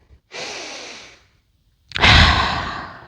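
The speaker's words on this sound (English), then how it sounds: "take 3 deep breaths" Deep breathing while standing in yoga mountain pose: a long, soft inhale followed by a louder, fuller exhale with a breathy sigh, close and alone without talk.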